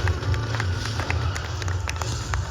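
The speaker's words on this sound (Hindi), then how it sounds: "जोरदार तालियां" Applause greets actors Sanjay Mishra and Deepak Dobriyal at a film event: a dense, steady wash of clapping from a large audience, loud and continuous, with faint voices mixed in.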